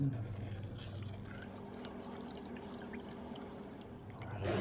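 Homemade grape wine made with baker's yeast is poured carefully back into a container, a soft continuous trickle and gurgle of liquid that is faint and close, with no talking.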